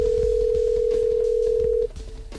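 A telephone on a sports radio call-in show sounds one steady, single-pitched tone for about two seconds over faint rhythmic background music, then cuts off.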